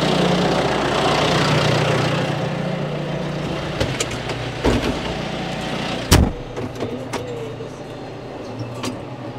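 A tractor's low engine rumbles steadily at an idle on a farm, with a few sharp clanks and knocks over it and no talk.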